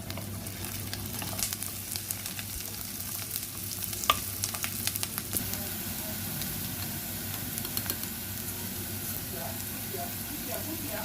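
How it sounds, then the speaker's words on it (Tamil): Garlic and green chillies sizzle steadily in hot tempering oil, a continuous soft frying hiss with occasional sharp pops and spatters, fairly quiet and close throughout. "அதையும் போட்டு லைட்டாக தாளிச்சுட்டு ரெண்டு பெரிய பச்சை மிளகாய்,"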